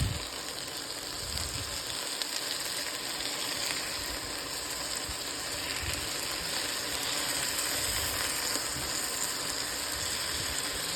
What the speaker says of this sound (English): When you overcrowd it, you're not searing it, you're boiling it.